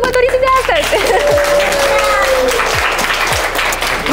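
Applause at a 25th wedding anniversary celebration in a family home, a short burst of clapping mixed with voices, chatter and other close household noises.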